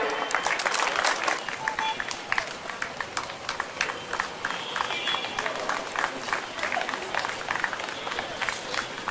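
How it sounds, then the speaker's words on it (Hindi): An audience applauds at a university ceremony in Mithila as guests take the stage, with dense, steady clapping from a large crowd filling the space throughout. "जोरदार ताली दें।"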